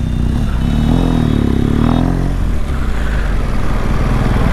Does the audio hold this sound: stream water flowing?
no